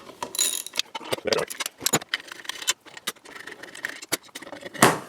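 Metal tool clicks and rattling on a cheap budget knife sharpener as its bolts are loosened, a busy series of close, sharp ratcheting and clinking sounds with brief pauses and a louder clank near the end.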